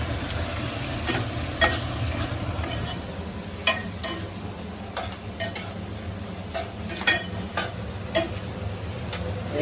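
Chicken biryani ingredients with turmeric and salt fry in a pan with a soft steady sizzle, punctuated by irregular clinks and scrapes of a spoon stirring against the metal, fairly quiet and close.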